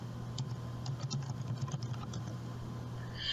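Typing on a computer keyboard, a quick run of soft, close key clicks at an uneven rhythm over a faint steady hum, trailing off near the end.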